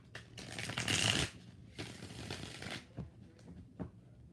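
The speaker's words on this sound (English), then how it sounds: "One more shuffle." A deck of tarot cards is shuffled close up in a few bursts of crisp riffling and flapping, the first the loudest, followed by softer taps and rustles as the cards settle.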